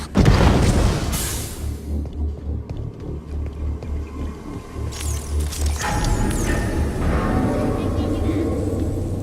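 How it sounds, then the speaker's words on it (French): Grenade blasts in the Halo video game, two deep booming bursts with a low rumble that trails off, set against continuous in-game noise and voices. "Ils ont lancé une grenade."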